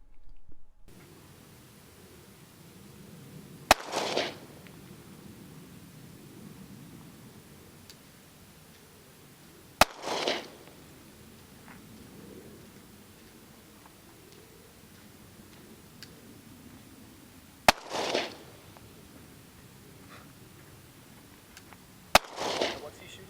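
Gunshots from Glock pistols, including a Glock 22 and Glock 23, firing handloaded and factory rounds at an outdoor range; four sharp, loud reports spaced several seconds apart over low background murmur.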